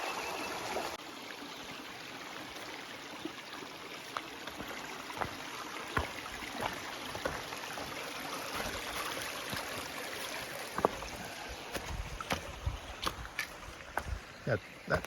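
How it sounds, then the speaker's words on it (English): A creek along a hiking trail in the Jennings Creek area of Virginia flows with a soft, steady rushing wash, faint and continuous, with scattered clicks and light handling noises over it. "Got that creek"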